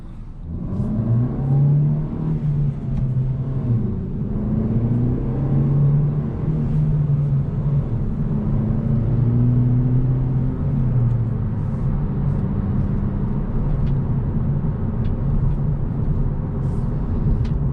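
Steady engine drone from a 2021 Hyundai Elantra N Line with six-speed manual transmission, heard from inside while driving, with low rumble and pitch rising and falling as it accelerates and shifts, continuous throughout.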